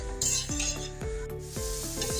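A potato and pea curry is stirred and sautéed in a pan, with scraping sweeps of the spoon recurring about every half second over a steady sizzle, close and moderately loud, with no talk.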